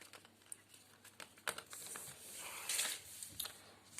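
Foil wrapper of a Kinder Surprise chocolate egg being torn open and crinkled by hand, with sharp close rustles and crackles that build into a louder burst of crumpling near the end.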